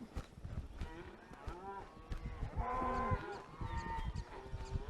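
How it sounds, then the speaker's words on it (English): Cattle moo repeatedly while riders on horseback move the herd along a trail, overlapping low and drawn-out calls at moderate distance over outdoor rustle. "So we got cows wanting to go everywhere."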